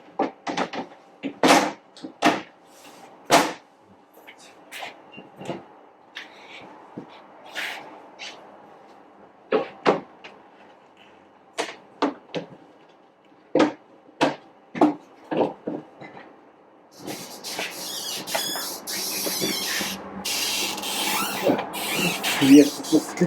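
The top of a homemade 3D printer creaks in sharp, irregular squeaks separated by quiet gaps, close by, before louder mechanical clatter and rustling take over near the end.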